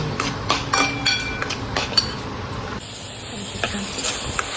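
Masala for a rustic chickpea curry fries in a pan while a spoon stirs and scrapes through it, with clinks of utensil on metal over a continuous sizzle, close and moderately loud, no speech.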